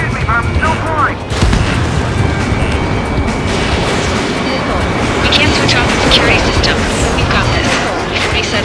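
Explosions and gunfire from the Ace Combat 7: Skies Unknown video game, a continuous heavy rumble of blasts with radio chatter and other game sounds layered throughout.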